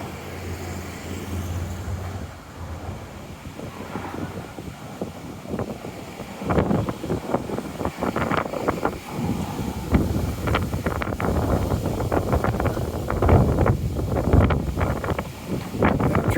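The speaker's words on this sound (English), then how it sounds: "It's very windy though." Gusty wind by the water on a seaside boardwalk on a fall afternoon, buffeting the microphone with loud rumbling bursts that grow stronger after a calmer opening.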